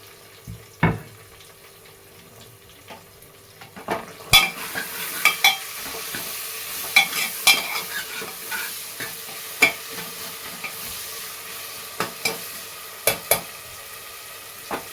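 Onion with ginger-garlic paste and tomato sautés in a pan for moong dal khichdi, a soft sizzle punctuated by frequent sharp clicks and scrapes of a spoon stirring, heard alone without speech.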